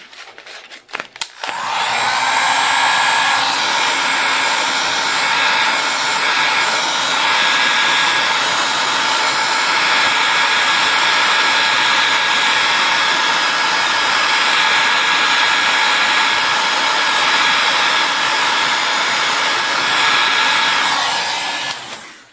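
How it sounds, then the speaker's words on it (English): A small heat tool blows steadily for about twenty seconds over an alcohol-sprayed resin pour on a steampunk gear clock, a loud, even hair-dryer-like rush with a faint whine, starting after a few clicks. "And my little heat tool."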